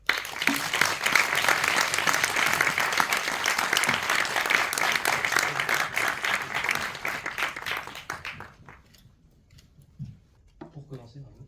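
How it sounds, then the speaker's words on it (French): A theatre audience at a festival of Korean cinema claps loudly for a film director, dense sustained applause for about eight seconds that then fades to a few scattered claps and quiet. "je vous demande de faire un tonnerre d'applaudissements pour la réalisatrice des trois films que vous avez vus"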